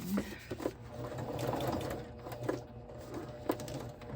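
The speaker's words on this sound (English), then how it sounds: "There's a lot of machine stitching in my books." A sewing machine stitches a scrappy fabric journal base, a close, fast mechanical whirr with clicks and small bumps as the fabric shifts, running fairly quietly without talk.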